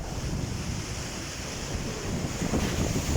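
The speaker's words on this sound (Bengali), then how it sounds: "আর সাগর দেখেন কি উত্তাল" Rough Arabian Sea waves churn and surge continuously at close range, mixed with heavy wind buffeting the microphone, growing slightly louder toward the end.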